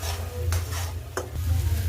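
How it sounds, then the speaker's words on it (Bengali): Onions frying in a pan with a little sugar added, a steady sizzle with a few short stirring scrapes, close and fairly loud, no voices. "এরপর এতে পেঁয়াজটা দিয়ে ভালো করে ভাজতে থাকবে, লাল লাল করে ভাজা হবে।"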